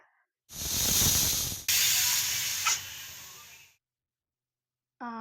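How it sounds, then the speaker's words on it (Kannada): A pressure cooker whistle on a batch of vangibath blows off steam in one loud, sustained hiss lasting about three seconds, with a brief surge partway through, then silence and a short clatter at the end. "cooker whistle hockey ಮುಚ್ಚಿದ್ರೆ 2 whistle ಕೂಗಿಸ್ಬೇಕಾಗುತ್ತೆ"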